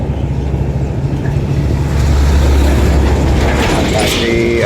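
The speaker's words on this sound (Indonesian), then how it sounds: "Mohon maaf atas kebisingan suara motor saya." Old underbone motorcycle, a worn moped-style engine idling with a low rumbling drone that grows louder midway, close and steady under rushing wind or passing traffic.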